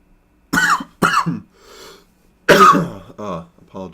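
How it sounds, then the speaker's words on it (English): A person coughs close into the microphone in a few sharp, harsh bursts, then clears the throat, loud and alone in an otherwise quiet room. "Apologies for that cough into the mic though."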